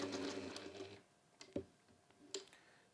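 A sewing machine stitches quilt fabric in a quick whirring burst, then stops, leaving a few faint clicks and taps as the presser foot is lifted and the fabric shifted.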